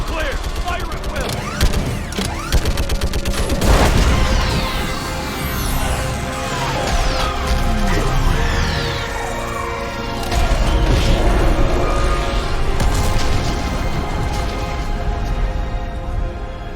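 Video-game battle against a Reaper with an orbital strike: continuous loud gunfire, mechanical clanks and booming impacts over a dense, roaring backdrop, with a sweeping surge partway through and voices mixed in.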